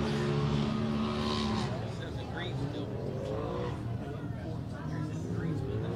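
A race car running Arturo tires takes off on a track in Springfield, Missouri, its engine roaring and rising in pitch as it accelerates, loud and close under a commentator's voice.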